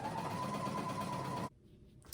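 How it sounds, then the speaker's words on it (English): A sewing machine running a basting stitch around the face opening of a cardigan hood, a steady close mechanical whir for about one and a half seconds that then stops, leaving near silence. "So I'm using a basting stitch to go around the whole face."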